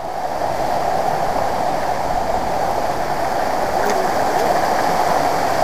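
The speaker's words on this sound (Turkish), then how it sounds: "Şelale var. Bayağı büyük bir şelale." A large waterfall on a trout-fishing stream in Kastamonu, Turkey, gives a loud, steady, close rushing roar of falling water that fills the whole stretch without a break.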